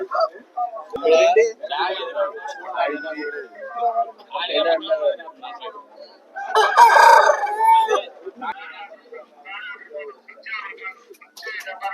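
A rooster crows once, loud and close, among busy chatter and overlapping voices at a rooster market in Vijayawada.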